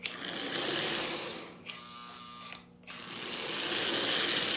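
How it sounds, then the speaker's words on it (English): A 1938 Lionel 229 toy train locomotive with a freshly lubricated E-unit runs with a steady mechanical whir and gear chatter. The sound dips into a brief quieter stretch midway, then resumes at full level. "As you see, it is up and running."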